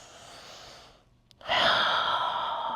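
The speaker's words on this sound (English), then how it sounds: "Big dramatic breaths." During a gentle morning yoga session, a short pause gives way to one big dramatic breath, a loud, close, airy exhale like a sigh.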